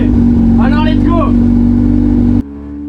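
A drift car rolls onto the starting grid for a practice lap at a Spanish drift championship final, its engine droning loudly and steadily with a few rising revs, then cutting off abruptly near the end.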